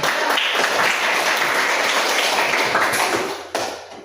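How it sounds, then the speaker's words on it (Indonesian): A room full of people clapping steadily after a group presentation, dense and loud, tapering off at the end. "tepuk tangan dulu"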